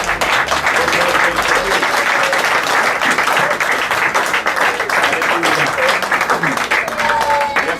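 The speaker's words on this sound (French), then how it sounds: "Est-ce que nous pouvons acclamer le Seigneur?" A church congregation applauds and cheers loudly in praise of the Lord, dense continuous clapping filling the room throughout, with voices mixed in.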